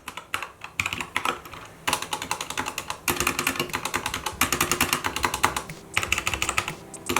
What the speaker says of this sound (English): Typing with these Gateron Browns was a satisfying experience